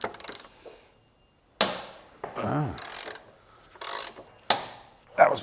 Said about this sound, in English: Unbolt the control arm.